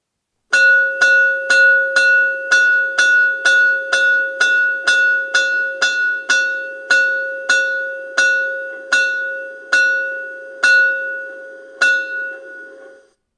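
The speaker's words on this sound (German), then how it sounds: "F5 aktiviert die Glocke bzw. das Läutewerk." Bell from the sound module of a 1:32 gauge 1 model Class 24 steam locomotive, rung about twenty times in a steady, even rhythm, each clear metallic strike ringing out and overlapping the next, loud and close with no talk.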